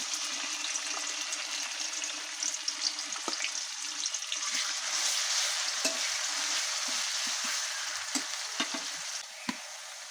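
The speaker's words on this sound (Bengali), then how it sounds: "তেল গরম হয়ে গেছে, আগে থেকে বাইটে রাখা সে মশলাগুলো দিয়ে দিচ্ছি" Spices hit hot soybean oil for a fish curry and sizzle in a loud, steady hiss up close, with occasional stirring clinks and no talking.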